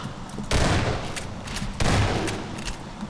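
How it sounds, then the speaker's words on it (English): Two loud, close shotgun blasts in Half-Life 2, each a sudden boom that tails off into a rumble, spaced a little over a second apart. "A good shotgun blast to the face does stun him."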